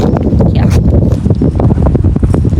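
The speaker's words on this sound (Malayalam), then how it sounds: "നല്ല കാറ്റുണ്ട്" Strong wind buffets and roars across the microphone, loud and continuous, with some rustling underneath.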